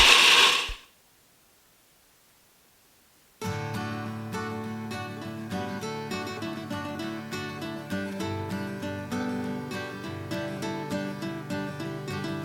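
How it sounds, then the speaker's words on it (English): A food processor grinds a single ingredient, peanuts, into peanut butter with a steady, loud mechanical whir that starts after a brief burst and a few seconds of silence, then runs continuously with a dense rattling texture. "put it in the food processor, close the lid, and let it make peanut butter"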